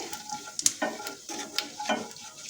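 Asafoetida and half a spoon of cumin sizzling in hot oil in a pan, with a soft crackle and a few quick stirring scrapes and clinks, close but fairly quiet.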